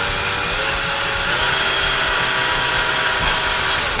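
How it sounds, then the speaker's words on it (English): A power drill bores slowly into drywall, a loud, continuous whirring grind that runs the whole time with no one speaking. "now we're going to drill very slowly"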